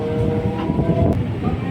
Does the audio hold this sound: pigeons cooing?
no